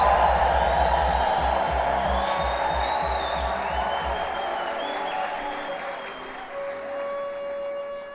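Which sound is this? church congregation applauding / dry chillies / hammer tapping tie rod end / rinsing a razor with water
church congregation applauding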